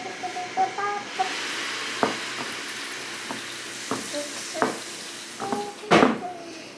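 A three-year-old stirs a HelloFresh meal sizzling in a pan, with soft steady frying under irregular clacks and scrapes of the utensil against the pan.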